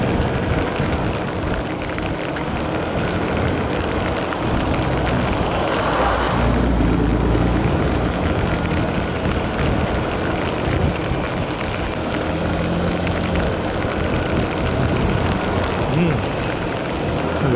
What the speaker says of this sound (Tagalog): Yan na naman yung ulan.